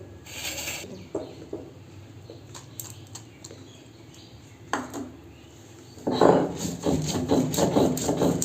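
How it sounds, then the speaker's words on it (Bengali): Soaked red lentils being ground on a traditional stone grinding slab, with intermittent rasping, rubbing strokes that grow louder and more continuous toward the end, and no talking. "এটাকে আমি সুন্দর করে বেটে নেব শিলেতে।"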